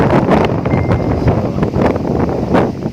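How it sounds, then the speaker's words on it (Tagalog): Strong, roaring typhoon wind from Typhoon Tisoy in Bicol buffets the microphone in a continuous heavy rumble with gusty surges, and no other sounds break through. "marinig nyo talaga yung hangin na yan guys"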